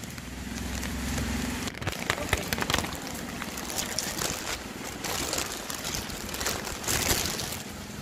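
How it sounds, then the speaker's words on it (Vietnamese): Rain pouring steadily during Typhoon Saola at a pig farm, a dense, continuous hiss and patter close by, with scattered louder drips and spatters throughout. "Hôm nay trời mưa quá các bạn ơi"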